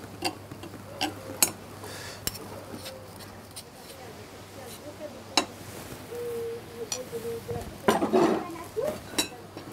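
A spoon mashes hard-boiled eggs through a metal sieve, making scattered small clinks, taps and scrapes at an uneven pace, with a louder burst of scraping near the end, under a quiet kitchen hum.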